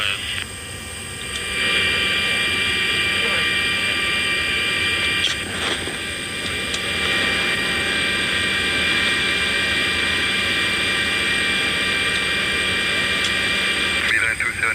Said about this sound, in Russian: Там буксируется борт. Самолетку тянут там, да?